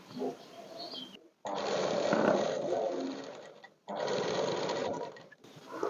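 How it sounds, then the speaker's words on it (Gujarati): A sewing machine stitches a straight seam along a dress slit, running in two sustained bursts of rapid mechanical whirring separated by brief pauses, close and fairly loud. "તો આ રીતે આપણે સીધી સિલાઈ જ્યાં સુધી આપણે કાપા રાખ્યા છે ત્યાં સુધી લઈ લેવાની પહેલા તો।"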